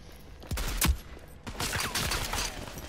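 Gunshots in Rogue Company, with a sharp close shot followed by a short volley, then a further burst of rapid firing with faint echoing tails.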